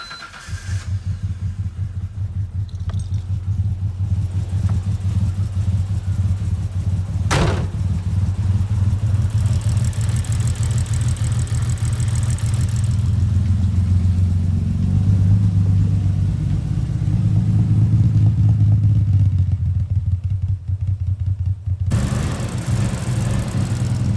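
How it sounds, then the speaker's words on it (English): Nissan GT-R engine running poorly, a loud, close, rough low rumble with uneven clattering thumps and a few sharp knocks, continuing throughout. "the GTR is running"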